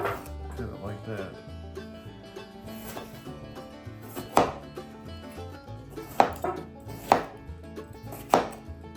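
A sharp knife cuts through food for a country mountain breakfast on a board. Several crisp, separate chopping knocks come under a person talking, with quieter handling sounds between them.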